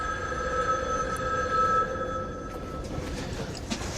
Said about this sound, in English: Like you hear your phone, you can't turn back.